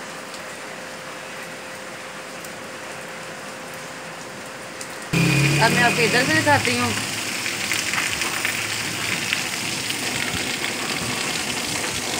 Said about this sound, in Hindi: माशाल्लाह बहुत तेज़ बारिश है